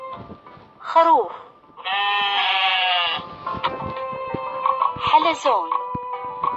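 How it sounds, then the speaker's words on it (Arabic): Sheep bleating, two wavering bleats separated by a long electronic tone, heard within a toy animal-cube game with a voice speaking between them. "خروف"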